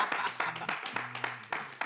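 Studio audience clapping for a guest on a French-language talk show, with sharp irregular claps over a sustained musical tone and some voices underneath.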